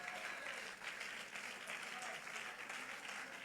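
A church congregation applauds at a Sunday service, steady sustained clapping filling the room for several seconds without a break, dense and even throughout.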